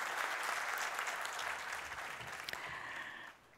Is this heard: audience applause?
yes